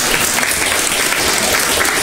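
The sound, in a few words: applause from students in a studio audience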